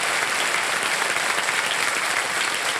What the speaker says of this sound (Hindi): एक बार फिर ताली बज जाए आपके लिए।